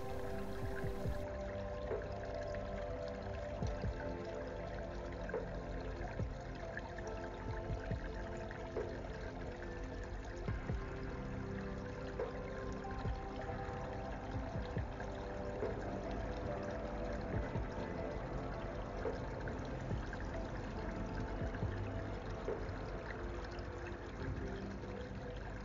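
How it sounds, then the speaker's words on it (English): Water pours steadily into a garden pond as it is refilled, a continuous close rushing and splashing that holds even for the whole stretch with no talking. "filling the pond back up"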